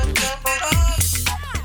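Wiko phone ringtone composed by the Sixième Son agency: a short, bright melodic jingle of a few tonal notes over a low bass, close and clear with no talk.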